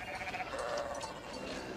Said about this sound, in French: on va traverser les moutons